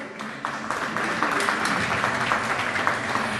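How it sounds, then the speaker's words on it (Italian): An audience at a cycling event's Miss Ciclismo pre-final applauds, a dense, loud, sustained clapping that fills the whole stretch, with no speech over it. "un bel applauso"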